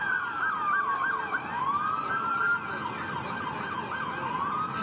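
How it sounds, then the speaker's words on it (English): Police patrol car sirens wailing continuously in a rising and falling pattern, loud and steady as the cars pass near a street disturbance by a fire. "Okay, here come the patrol cars."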